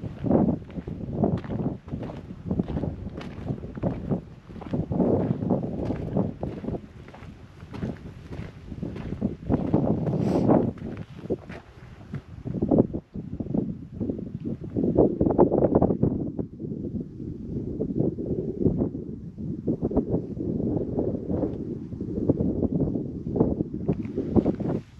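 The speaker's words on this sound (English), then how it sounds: "It's windy. That's one thing about here. Wind. It's pretty much been nonstop since we got here." Strong, nonstop wind buffets the microphone outdoors at Salt Creek Wilderness in New Mexico, a loud low rumbling roar in uneven gusts with occasional crunching steps.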